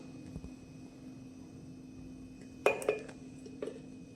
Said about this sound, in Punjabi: ਇਹਦੇ ਵਿੱਚ ਆਪਾਂ ਹੁਣ ਕਾਫੀ ਪਾ ਦਿੰਨੇ ਆ